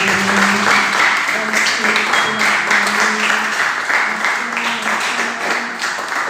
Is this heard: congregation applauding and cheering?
yes